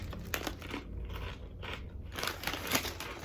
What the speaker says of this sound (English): You wouldn't think a potato chip could be too crunchy